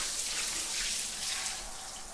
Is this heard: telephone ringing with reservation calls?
no